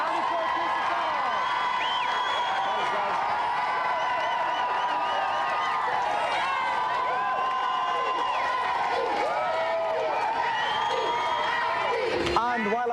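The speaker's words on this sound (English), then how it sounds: "A round of applause again for our two special guests tonight." A studio audience on a games television show cheers and applauds its two special guests, a sustained loud roar of clapping and whooping that runs unbroken throughout.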